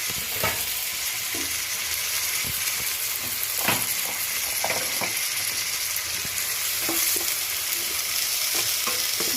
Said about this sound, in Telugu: సో ఇది కొంచెం సేపు మనం ఇలానే వేగనిద్దాం